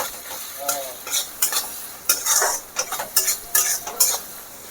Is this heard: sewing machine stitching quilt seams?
no